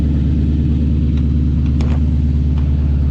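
A 1954 Chevy cabover truck idles through old-school glass-pack exhausts with steady, loud, close low rumbling and a rhythmic burble, with no talking.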